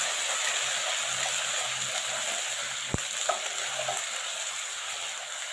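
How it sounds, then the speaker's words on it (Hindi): Garlic-ginger paste fries with browned onions in hot ghee, giving a steady, close sizzle and hiss with one sharp spoon clack and light stirring scrapes partway through, no voices. "इसको हम इतनी देर भूनेंगे इसका कच्चापन दूर हो जाए।"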